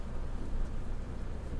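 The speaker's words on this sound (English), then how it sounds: "It's nice driving in a bit of rain." Light rain pattering steadily while a coach drives in Fernbus Coach Simulator, a soft, even hiss mixed with low road rumble, faint and continuous with no voices.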